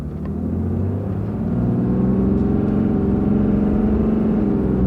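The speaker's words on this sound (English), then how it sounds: "This isn't a race truck, it's a big diesel work truck." A big diesel work pickup truck accelerates hard down a drag strip, its engine giving a steady, loud, low rumble that builds without any audible gear shifts.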